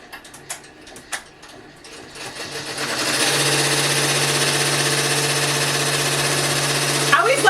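A multi-needle embroidery machine switches to needle 14 to stitch a personalized design: a few clicks and taps under some talk, then a loud, steady mechanical whir with a low hum that runs close and unbroken.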